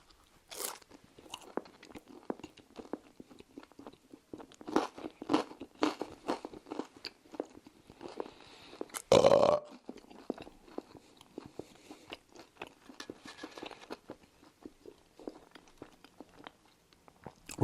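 Close, crisp crunching bites and chewing of pizza, irregular and repeated, with one louder scraping crunch in the middle and quiet pauses between.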